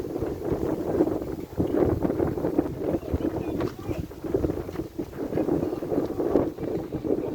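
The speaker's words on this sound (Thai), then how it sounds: "ลมแรงมากเลยลม" Strong wind buffets the microphone outdoors at a quiet waterside spot, a low rumbling roar that swells and dips in gusts throughout.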